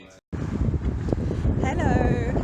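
Wind buffets the microphone outdoors and traffic rumbles past nearby. The broadband noise starts after a short gap and stays steady, loud and close.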